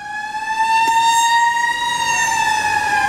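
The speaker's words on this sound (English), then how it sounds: "let's wait for that fire truck to go by because it's extremely loud." A fire truck's siren wails loud and close, holding a steady tone that slides slowly downward as the truck passes by.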